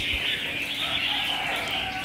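A wild-caught red-whiskered bulbul chirping, thin high calls repeating over a dense steady background of other birdsong, fairly close and continuous throughout.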